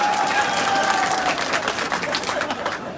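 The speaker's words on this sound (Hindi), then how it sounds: "ठोको ताली, ठोको टका।" Dense applause and clapping from a large crowd at an outdoor political rally speech, steady and loud throughout with crowd murmur mixed in, no clear speech on top.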